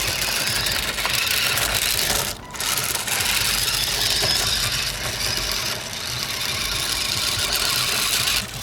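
Omnidirectional mecanum-wheel RC car, an RBRC RB1277A, driving on dry dirt, a steady high electric motor whine with gritty rolling noise and a brief dip partway, close and continuous.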